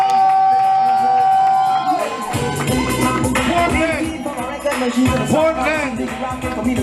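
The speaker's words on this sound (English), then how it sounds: "Give the Honorable Minister Dr. Lynn Vale Bloomfield around him a resounding round of applause, please. Make some noise!" A concert crowd at an outdoor love-and-unity event cheers and whoops, with sustained tones underneath and rising shouts toward the end; voices come through the noise.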